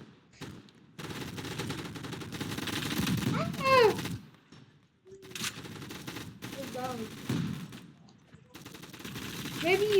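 Gunfire from the Gun Fire Arena shooting video game rattles in sustained bursts with short pauses between volleys, mixed with other game sounds and voices talking over the action.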